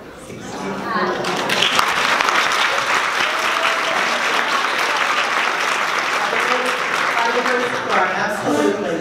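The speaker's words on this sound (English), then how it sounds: "In my notes it says they will clap." A large audience breaks into sustained applause, dense and loud, building quickly after a voice at the start and holding steady with scattered voices underneath.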